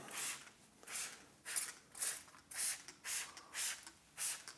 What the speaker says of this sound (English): spray this on a wet panel.